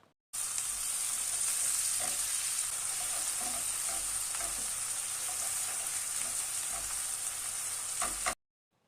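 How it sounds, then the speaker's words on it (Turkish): Chopped onions with diced green and red peppers frying in oil for fellah köftesi, a steady, close sizzle with occasional stirring clicks, heard alone and cutting off at both ends. "içine bir tane yeşil bir tane kırmızı doğranmış biberi ekleyip kavurmaya devam ediyoruz"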